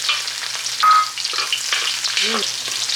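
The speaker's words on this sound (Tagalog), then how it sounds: "Sasangag ka ng garlic." Garlic frying in hot oil in a pan, a steady close sizzle with occasional stirring scrapes and a brief clink, loud and continuous without talking.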